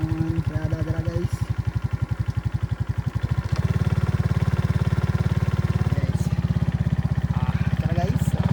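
A motorcycle engine fires up at a single press of the electric start, a brief cranking pulse followed by a steady, loud idle that holds close by while a voice talks over it.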